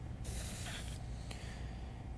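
Airbrush spraying paint onto an animal picture, a quiet breathy hiss starting sharply and lasting about three quarters of a second, followed by a brief second puff and a faint trailing spray.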